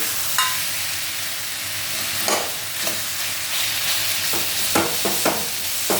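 Lentil dumplings (bori) added to a frying pan with bottle gourd, a constant sizzle in oil broken by several scraping stir strokes, close and steady.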